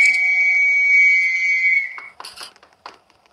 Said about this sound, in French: Ça, c'est le sifflet.